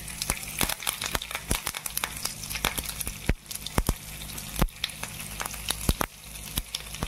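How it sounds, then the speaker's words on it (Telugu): Mustard seeds, fenugreek and cumin crackle and sizzle in hot oil in a pan for ridge gourd dal, a steady close fry punctuated by frequent sharp pops of bursting seeds. "దాని తర్వాత ఆవాలు వేసుకోవాలి, మెంతులు, జీలకర్రని ఇందులోకి వేసుకోవాలి"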